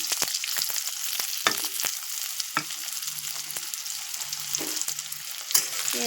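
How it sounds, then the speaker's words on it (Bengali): Chopped onions hitting hot oil in a kadai for a chicken dish, a steady bright sizzle and crackle with occasional spoon scrapes and clinks, close and continuous, no voices. "এবার কেটে রাখা পেঁয়াজগুলো দিয়ে দেবো।"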